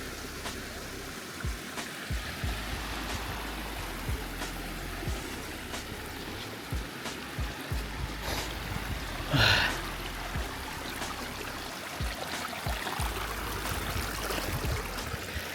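A small stream flows steadily near a landslide site in Dickwella, giving a faint, continuous outdoor rush of water. A brief, louder passing sound rises briefly over it midway.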